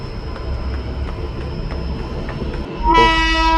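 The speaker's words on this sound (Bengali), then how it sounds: "এই সময় শেষ ট্রেন ছেড়ে যায়" Cartoon-style train pulling away from a station at night: steady rumbling wagon noise for nearly three seconds, then a loud, sustained horn blast takes over to the end.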